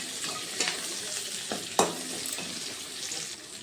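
Capsicum cut into large pieces being lightly fried in a pan for chilli paneer, a soft steady sizzle with a few sharp stirring clinks and scrapes, the loudest near the middle.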